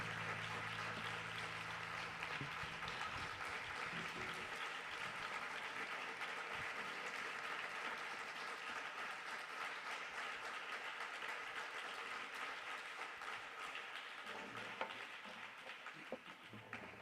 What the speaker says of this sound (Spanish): Me acaba de aplaudir Boris aquí en el escenario